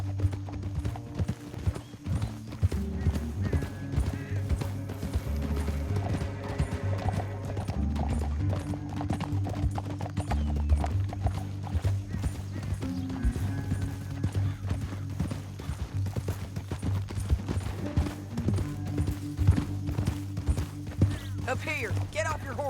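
Rapid, continuous clip-clop of galloping horse hooves in Red Dead Redemption 2, loud and close, over a rumbling game soundtrack, with a horse whinny in the mix.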